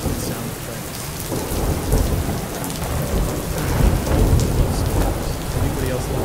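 A thunderstorm ambience from the Blanket sound app plays steady, dense rainfall with low rumbling thunder swelling and fading underneath, continuous and fairly loud with no voices.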